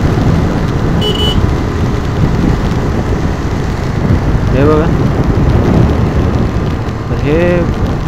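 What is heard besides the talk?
rain during a monsoon ride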